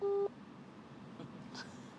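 A phone line on a call to Indonesia gives one short, loud electronic tone at the start, then goes quiet over a faint hiss with a few soft distant noises.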